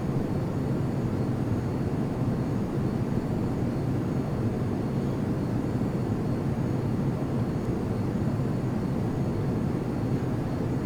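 F-22 Raptor jet engines in a Prepar3D flight simulator climbing toward 4,000 feet: a steady, loud, broadband roar with a low rumble, unchanging and continuous throughout, with no talking.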